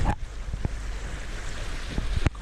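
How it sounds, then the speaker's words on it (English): Ocean waves breaking near rocks and shoreline off the Tasmanian east coast in winter, heard from a sailboat as a steady wash of surf under gusty wind buffeting, with a few sharp thumps. "Breaking waves on the left there, and quite close to the rocks and the shoreline on this side."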